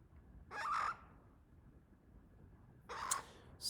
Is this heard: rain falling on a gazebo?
no